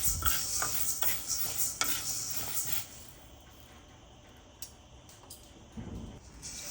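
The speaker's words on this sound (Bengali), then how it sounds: "আমি প্রথমেই খিচুড়ির জন্য মুগ ডালটা ভালো করে ভেজে নিব" Moong dal dry-roasting in a pan for winter-vegetable khichuri, with close, loud scraping stirs for the first few seconds before the sound settles into a faint, quiet sizzle.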